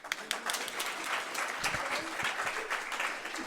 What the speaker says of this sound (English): Round of applause for that guy.